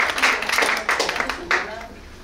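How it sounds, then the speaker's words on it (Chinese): An audience at a documentary screening and panel discussion claps to welcome a guest, loose bursts of clapping rising and falling over a short stretch, close and mixed with voices. "让我们掌声欢迎高先生"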